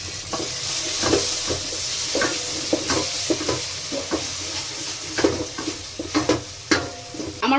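Spice masala with turmeric, salt and cumin powder frying in a rice cooker for quail curry, with a steady sizzle broken by repeated scraping stirs at close range.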